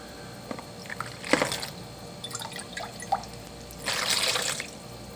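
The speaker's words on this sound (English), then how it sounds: "Then I'm going to add that to the hot sugar water mix there." Liquid poured into a hot sugar-water mix while making a summer bubble solution, heard as a few light splashy trickles and drips, near and fairly quiet, ending in a brief steadier pour.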